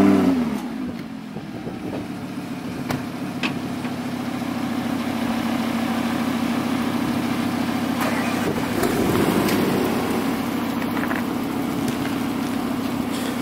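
A car engine cranks and fires up, settles into a throaty idle, then revs briefly before settling back into a steady rumble, heard from nearby.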